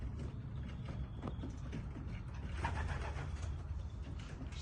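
Racing pigeons, cocks and hens, coo softly inside a loft, low murmuring calls over a quiet rumbling background, with occasional shuffling and fluttering.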